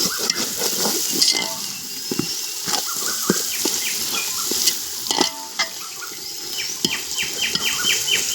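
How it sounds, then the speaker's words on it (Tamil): Vegetable biryani being stirred in a pan: close, repeated scraping and clinking strokes of a spoon over a constant sizzle, irregular in rhythm, with no talking. "நல்லா கிண்டிடலாம்"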